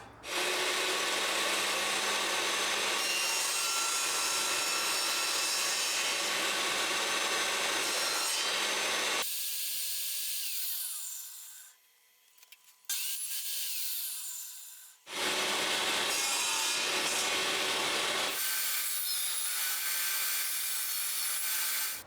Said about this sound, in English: then from this nice piece of hewn pine, cut the tail strip